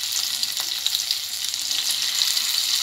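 Sankara fish frying in hot oil for a Tamil fish fry, a steady close hiss and crackle of sizzling that continues evenly throughout.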